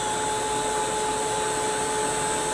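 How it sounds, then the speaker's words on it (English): A heat gun blows with a loud, constant whooshing airflow and a steady motor whine, unbroken and close throughout. "heat gun."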